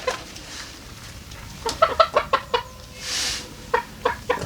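Poultry-yard chickens cluck close by in a run of short, sharp clucks, with a soft, rushing swell partway through and more clucking after, with no talk.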